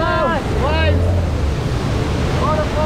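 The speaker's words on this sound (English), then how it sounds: "Waves." Ocean waves wash and rush past a sailing boat on passage to Misool, with heavy wind buffeting the microphone and voices calling out over the surf.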